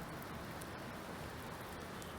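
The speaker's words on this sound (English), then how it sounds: "it's starting to rain" Rain beginning to fall on farmland in Farming Simulator 2019, a dense, steady hiss of raindrops with no break, loud and close across the whole short stretch.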